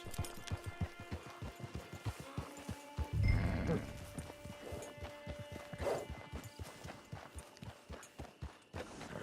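Rhythmic clip-clop of horse hooves at a steady pace in Red Dead Online, with a horse whinnying briefly partway through, heard close and clear.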